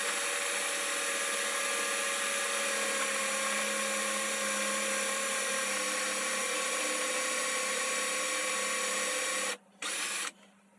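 Drill bit fed into a part spinning in a lathe fitted with a tool post spindle, giving a steady, loud whining hum with dense tonal bands that runs unbroken for most of the clip before two abrupt short dropouts near the end.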